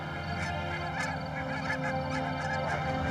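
Geese or similar large fowl flying close alongside in open air, giving repeated nasal honks at close range over a steady rush of wind, with no talking.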